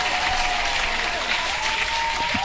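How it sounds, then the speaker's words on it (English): Hand-clap applause played on a live crypto market stream, a steady dense wash of clapping held at even loudness, with no talk over it. "Hand clap to you, sir, for coming to the show."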